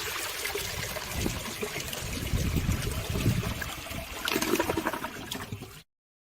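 Toilet flushing close by, a sustained rushing gush of water that swells midway, then trickles and stops abruptly.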